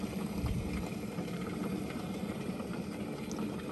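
A vintage Toastess electric kettle heats water toward a boil, giving a steady low rumbling, bubbling roar that holds evenly throughout at moderate loudness.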